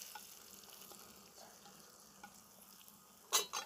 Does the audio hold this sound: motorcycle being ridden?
no